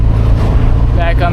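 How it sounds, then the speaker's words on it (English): Mazda Miata engine blipping during a heel-toe downshift while driving, a loud close drone from inside the car with a brief rise in revs near the end and a voice talking over it. "A little heel toe downshift."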